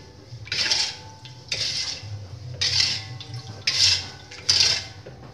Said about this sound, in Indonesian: Ini aduk sampai larut.